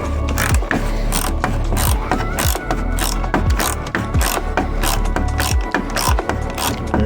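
A ratchet undoes Torx T30 screws on an Audi TT 8J front grille, a fast continuous run of close, loud metallic clicking with no talk.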